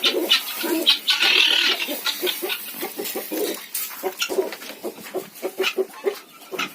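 Chickens cluck and a rooster calls in a busy village farmyard, with short, repeated bird calls overlapping at close range.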